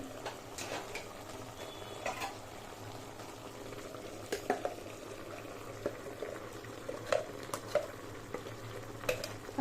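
Ground masala paste goes into a simmering chicken sambar in a pan and is stirred in, with a low bubbling sizzle, soft spoon scrapes and occasional clicks against the pan, close but fairly quiet.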